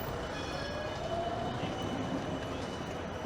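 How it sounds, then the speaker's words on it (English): A tram turning left on a busy Amsterdam street near Leidseplein, a steady rolling rumble of wheels on rails with faint squealing tones as it rounds the curve, set in constant city background noise. "And that tram is turning left"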